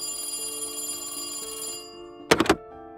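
A telephone rings with a sustained electronic bell tone that cuts off, followed by a short cluster of thuddy clicks like a handset being picked up, heard close with faint room hiss.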